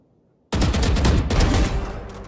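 Rapid automatic gunfire in the Valorant video game bursts in suddenly after a quiet moment, a loud dense stream of shots that keeps going to the end.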